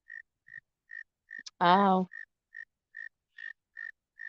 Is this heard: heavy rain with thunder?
no